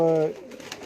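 A Lakha pigeon gives a short, close coo that stops abruptly, followed by faint rustling and background noise.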